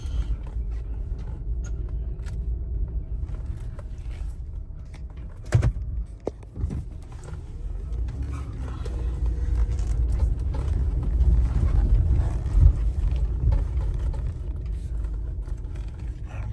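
A 2000 Mercedes-Benz ML320 engine idles low and steady, a sharp clunk near the middle, then the rumble swells as the vehicle pulls away and keeps running.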